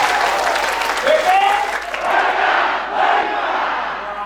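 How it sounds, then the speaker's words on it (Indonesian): Loud audience applause mixed with cheering and shouting from a packed room at a motivational training session, a dense, sustained roar of clapping that swells and dips across the whole stretch. "Kalau boleh tes tepuk tangan yang meriah."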